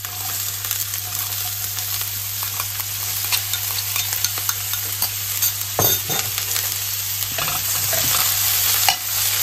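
Chopped garlic, onion and de-seeded red pepper sizzle steadily in a pan, with a utensil scraping and stirring through them in repeated strokes, close and alone with no talk.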